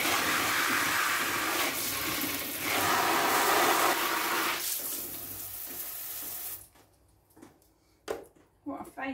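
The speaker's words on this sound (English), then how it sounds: "Just take them to the sink, hose them as much as you can inside now." Water from a sink tap hoses greenfly off green bean plants indoors, a loud steady gushing spray that rises and falls for several seconds before stopping, leaving a few clunks and drips.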